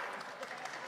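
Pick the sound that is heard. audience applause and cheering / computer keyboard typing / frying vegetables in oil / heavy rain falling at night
audience applause and cheering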